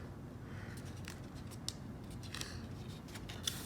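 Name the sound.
cutting with sharp scissors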